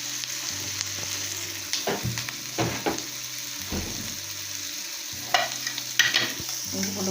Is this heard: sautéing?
yes